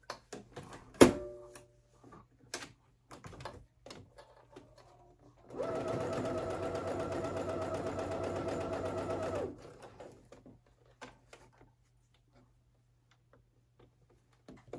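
A sewing machine stitches a tank dress in one steady run of several seconds, framed by scattered handling clicks and taps before and after with quiet gaps between.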